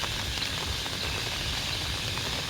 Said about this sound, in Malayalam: നല്ല മഴയുണ്ട് ഗൈസ്, കണ്ടോ